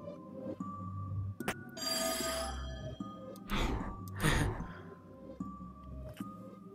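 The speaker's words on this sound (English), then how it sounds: "What was that sound like a ringing bell?" An old-fashioned telephone bell rings in short bursts inside the video game There Is No Game: Wrong Dimension, mixed with breathy sighs and gasps.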